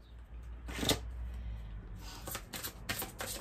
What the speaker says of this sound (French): j'ai envie de prendre une carte de l'oracle de Maman Marie